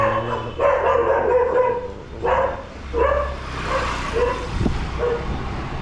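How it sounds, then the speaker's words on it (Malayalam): Several street dogs bark in short bursts, fairly close, over a steady rumble of passing traffic on Palace Road in Kochi. "പട്ടികൾ"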